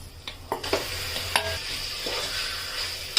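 About 400 grams of mutton fries with turmeric and fresh ginger garlic paste for Hyderabadi haleem. A close, crackling sizzle carries several sharp clatters from stirring against the pot, and no one talks.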